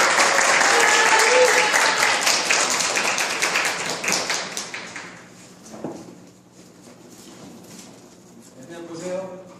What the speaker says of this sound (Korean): 환영하면서 우리가 박수를.